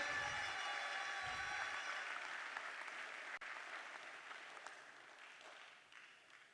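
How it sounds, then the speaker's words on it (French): Audience applause for prize winners from a Haut-Katanga school at an awards ceremony, a steady broad patter that slowly thins and fades over several seconds, with no talk over it. "On peut les applaudir, mesdames et messieurs"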